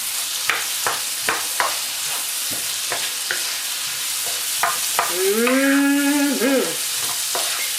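Sweet and spicy king prawns stirred in a hot pan, with repeated scraping stir strokes over a steady sizzle and a short squeaky tonal scrape partway through.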